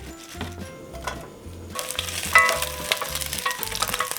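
Fat trimmed from beef brisket renders in a pan, opening with quiet rhythmic stirring and scraping, then breaking into a louder, steady close sizzle and crackle for the remainder.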